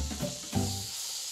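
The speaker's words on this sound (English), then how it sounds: "So when the sizzling slows down, you know it's time to flip it over." Beef sears in a hot pan, giving a continuous bright sizzling hiss close by, with two short, duller thuds or shifts of the meat near the start.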